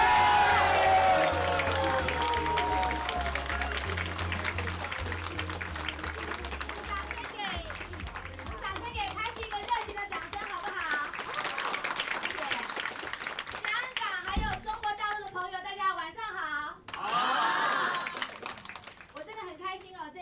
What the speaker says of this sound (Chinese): 所以我们用热烈的掌声欢迎来自我们美国洛杉矶的双钻石领导人Yvoone